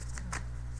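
Tarot cards shuffled on a felt surface, two quick riffling bursts over a steady low hum, close and fairly quiet.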